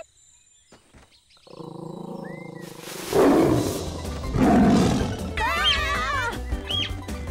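A tiger roars loudly and close in two heavy bursts, set among wild jungle animal sounds of Southeast Asia with bird-like calls rising near the end.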